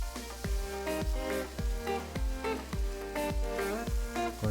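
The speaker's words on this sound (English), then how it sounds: "Now add the mixed vegetables. Stir fry." Seafood noodles and mixed vegetables sizzle as they are stir-fried in a hot pan while a utensil scrapes and clanks against the metal in a steady, repeated rhythm.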